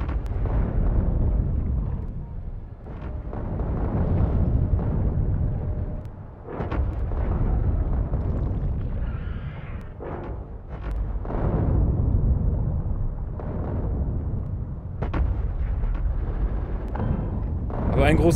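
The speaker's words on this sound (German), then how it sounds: "Jetzt schießen sie auf zwei große Nester." Turrets and artillery in Factorio pounding two large biter nests, a dense string of booming explosions and bursts rumbling one after another, heavy and continuous with short dips, a voice talking over the barrage.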